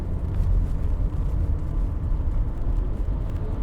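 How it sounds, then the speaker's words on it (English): A big garbage truck rolls along an Oakland street, a heavy low engine rumble and road roar holding steady and fairly loud the whole time, heard from inside a car, with no talking. "The big old garbage truck."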